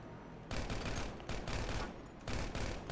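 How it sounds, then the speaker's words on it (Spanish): Rapid gunfire erupts in a video game roleplay shootout with police, loud bursts of shots arriving in three dense waves with no talk over them. "Sí, los estoy cagando a tiros, se movieron."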